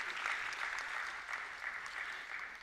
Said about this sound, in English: That really calls for some happiness and applause.